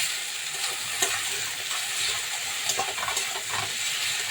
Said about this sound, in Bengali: দিয়ে দেবো জিরের গুঁড়ো, দিয়ে দেবো লঙ্কার গুঁড়ো। এবার ভালো করে এটাকে কষিয়ে নেবো